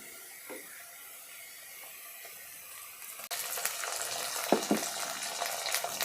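Onion, garlic and chilies fry in a pan, a soft sizzle that swells to a louder, steady hiss after spice paste goes in partway through, with a few faint clinks.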